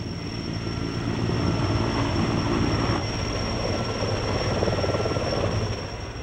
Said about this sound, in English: we have acquired the services of a helicopter to help us set 4 of the 7 bridges